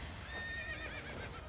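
A short, faint horse whinny with a wavering pitch from a video game, heard alone over a low background hum.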